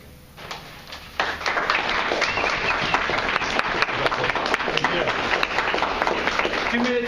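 An audience breaks into sustained applause, many hands clapping steadily and loudly for several seconds after a brief quieter lead-in.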